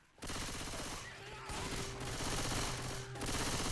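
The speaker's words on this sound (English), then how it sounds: "A machine gun?" Rapid machine gun fire in a Left 4 Dead versus match, dense bursts of loud repeated shots broken by a few short pauses, with faint voices underneath.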